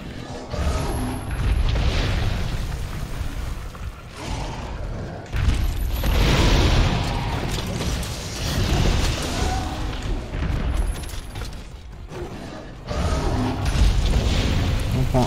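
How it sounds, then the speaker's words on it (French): Crystalline explosions from a Monster Hunter World fight against Brachydios and Lavasioth come as repeated heavy booms and bursts with crackling debris, loud and close, separated by short lulls across the stretch. "Des explosions cristallines."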